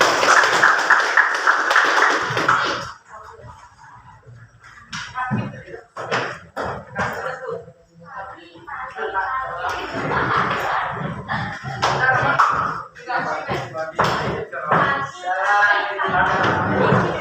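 A school audience of students breaks into loud, dense applause for a few seconds at the start, then it fades as a speaker talks over a quieter room.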